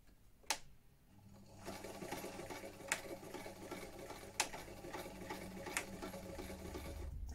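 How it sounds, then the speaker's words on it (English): A vintage sewing machine backstitches a seam, running in a steady mechanical whir with light regular ticking and a few sharper clicks as the stitching reverses back and forth. "I'm going to backstitch this quite a few times"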